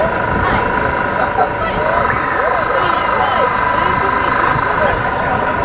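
A Belgian Air Force AW109 helicopter performing a display at an air show, a steady loud rotor and engine drone throughout, with a commentator talking over it on the PA.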